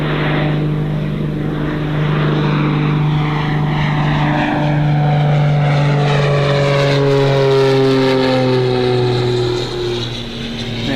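A Piper Chieftain twin-engine propeller aircraft with a rear door missing flies past at Gold Coast Airport, its loud, steady propeller drone rising and falling in pitch with clear Doppler sweeps and no talking.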